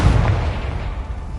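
The Confringo blast spell from a Harry Potter video game: a single loud, close boom with a heavy low thump that fades quickly into a rumbling tail.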